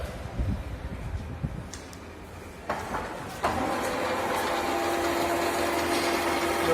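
A lathe takes a final finishing cut on mild steel at higher spindle speed, a steady close machine whine and hum starting partway through after some lighter clatter and knocks.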